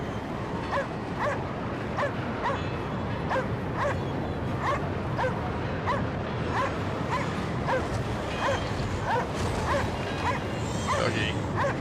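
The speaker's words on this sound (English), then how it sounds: "Why these dogs are going so crazy." Dogs bark and yelp in a rapid, steady stream throughout a Cryostasis game scene, several animals close and loud over a dense, noisy background.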